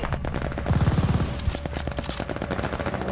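Gunfire in Call of Duty: Vanguard, a rapid automatic burst of shots followed by scattered single reports, moderately loud under game ambience.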